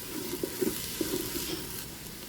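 Garlic sizzles in a hot pot while being stirred, a soft steady crackle with a few light scraping knocks, fairly quiet and close, with no talk.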